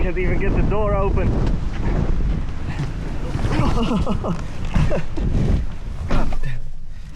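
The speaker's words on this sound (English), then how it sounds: "Oh, it's windy." Strong wind from a storm ahead of a cyclone buffets the microphone aboard a boat with a loud, continuous roar while people talk over it.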